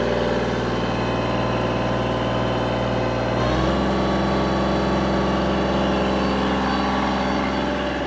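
A Kubota L2501 tractor diesel engine on a dyno, running as a loud, steady, close drone that shifts to a deeper, heavier pitch partway through as it goes to full throttle, with no talking.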